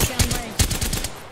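Video game gunfire rattles in two quick bursts, each with sharp onsets and a dense crackle of rapid shots trailing after, loud and close with a faint hum beneath.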